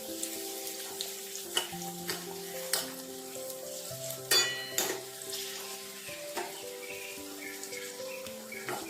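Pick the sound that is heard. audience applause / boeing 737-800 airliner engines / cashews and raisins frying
cashews and raisins frying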